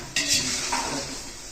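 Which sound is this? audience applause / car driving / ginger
ginger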